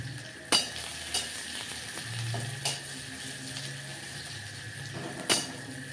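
Onion pieces and panch phoron spices sizzle and fry steadily in a pan, with a few sharp clinks of a utensil against the pan over the continuous hiss.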